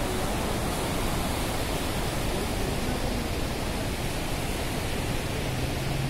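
Man-made waterfall in a valley, a steady broadband rush of falling water filling the whole stretch evenly, loud and close with no breaks.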